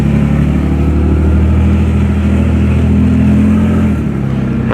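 A 1991 Nissan 300ZX 2x2 engine running just after start-up, close and loud, with a steady droning idle that shifts briefly near the end.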